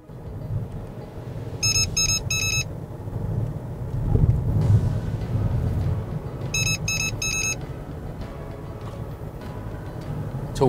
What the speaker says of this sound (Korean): 이 상황 같은 경우에는 보행자 추돌 경보입니다